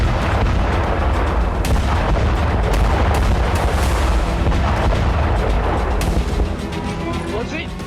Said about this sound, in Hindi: बीती रात यूक्रेन के खार्किव इलाके में ऐसा बारूदी भूचाल आया जिसे देख हर कोई दहल उठा